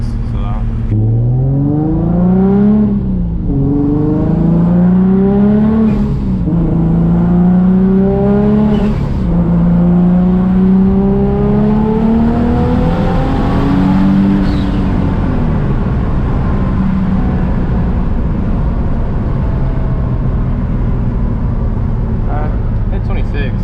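A turbocharged car pulls hard in a fourth-gear roll on the way to 30 psi of boost, engine note climbing loud and steady from close range with brief dips between surges, and a voice talks over it.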